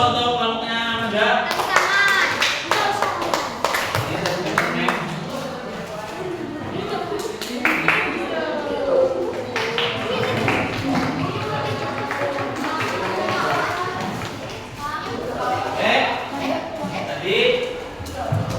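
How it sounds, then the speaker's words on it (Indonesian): Classroom audience claps for a student group after their presentation, a dense, steady patter of many hands close by, mixed with voices and chatter throughout. "Beri aplaus untuk kelompoknya Amanda."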